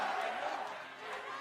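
A large arena crowd at a League of Legends Worlds 2022 group-stage match between EDG and T1 fills the space with a steady, distant roar and murmur, with no clear peaks.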